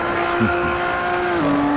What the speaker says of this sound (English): The Maserati Levante is a sports luxury crossover SUV with that oozing Maserati style.